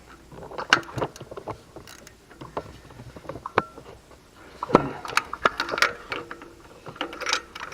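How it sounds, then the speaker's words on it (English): A 3/8 ratchet tightening starter bolts on a Ford 6.2L engine gives quick bursts of metallic clicking in short, uneven runs, with brief pauses between strokes. "now I'm going through with the 3/8 ratchet and actually getting them all, making sure they're all good and tight"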